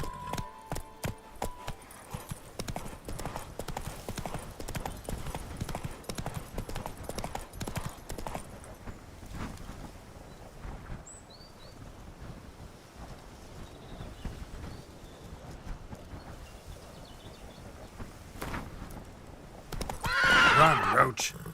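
The horse in The Witcher 3 gallops with steady rhythmic hoofbeats, closing with a loud neigh, while a voice speaks briefly.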